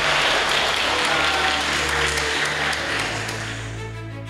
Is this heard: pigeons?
no